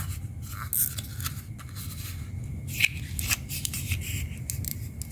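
Scissors snip through plastic bubble-tea drinking straws at close range, giving a series of small sharp clicks and crisp cuts spaced irregularly over a soft background hiss.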